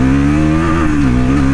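A Bajaj Pulsar NS400Z motorcycle engine droning steadily while riding, loud and close with a continuous throbbing hum that wavers slightly in pitch.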